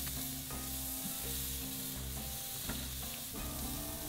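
Burger patties sizzling on a lump charcoal grill, a dense continuous hiss and crackle with occasional sharper pops and scrapes, close and steady throughout.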